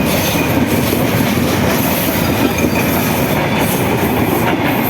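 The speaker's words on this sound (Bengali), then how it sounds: "ট্রেনটা বড়, রাজশাহী ট্রেনগুলো বড় হয়।" The Silk City express train from Rajshahi rushes past close by, a loud, dense, continuous roar of wheels on rails with rattling carriages and faint squealing throughout.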